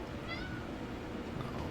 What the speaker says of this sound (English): Uh-oh, cat's here.